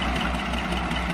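A diesel locomotive idles as a light engine on the West Somerset Railway at Williton, a steady, dense low-frequency throb that is loud and close and continues without a break.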